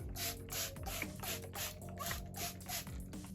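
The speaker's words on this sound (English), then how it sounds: "I'm just lightly spritzing it with water" A handheld spray bottle spritzes water onto hair in a rapid run of about eight short, soft puffs, close and quiet, with no talking.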